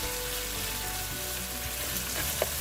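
Already-cooked pork sizzles and crackles steadily as it is reheated in hot oil for a spicy pork refreshé with onions, a dense continuous fry noise with a small clink near the end.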